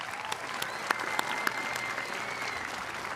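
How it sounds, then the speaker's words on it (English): Audience at a middle school promotion ceremony applauds the jazz band, a soft, steady spread of clapping from a distance with a few sharper individual claps standing out. "How about another round of applause for the jazz band?"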